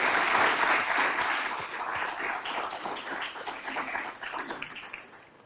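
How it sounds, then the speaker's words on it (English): An audience at an air-quality symposium bursts into a sustained round of applause, dense and fairly close, slowly tapering off toward the end. "we really owe Jim a big round of applause for all of this"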